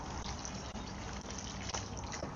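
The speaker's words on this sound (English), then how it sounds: "we're just going to water it in to settle the soil around it" Water pours steadily from a watering can onto the soil of a newly planted container, a continuous close splashing gush with a few slight dips.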